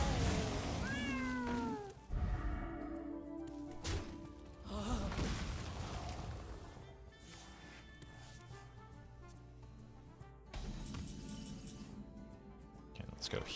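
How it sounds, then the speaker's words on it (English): A cat meows in a demon-hunting video game, giving a few rising meows near the start amid thuds and other game sounds, while a person talks throughout. "Yeah, kitty cat."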